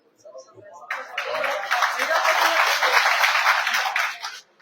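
Applause from a crowd at a political rally in Uttar Pradesh swells quickly into steady, dense clapping that holds for about three seconds, then stops abruptly, with faint voices underneath.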